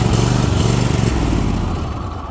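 VEVOR 10.6 CFM 150 psi rapid inflation air compressor running on a small lawnmower battery, a loud close motor drone with a fast pulsing chug that slows slightly as it fades.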